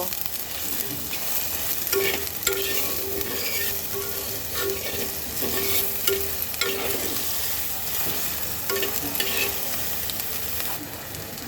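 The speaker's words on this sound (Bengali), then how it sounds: "পেঁয়াজটাকে সুন্দর করে ভেজে নেব" Chopped onion and green chilli fry in a clay pan with cumin, a steady close sizzle under repeated spoon stirring and scraping, no voices.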